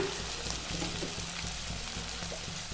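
Onions sautéing in oil in a pan for an okra tamarind curry, a steady close sizzle with soft scraping stirs running throughout.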